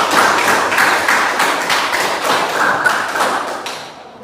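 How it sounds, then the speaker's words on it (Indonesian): A class of students claps hands together in a burst of loud, close, crowded applause that holds steady for about four seconds before tapering off. "Tepuk tangan dulu."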